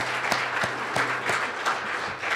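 An audience at a two-day workshop gives steady, dense applause, with a few sharper individual claps standing out near the front of the continuous clapping.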